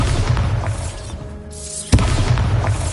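A single booming blast from the Bombarda spell in Hogwarts Legacy hits near the end of a rumbling, noisy game soundscape, one sharp loud thud followed by lingering low rumble.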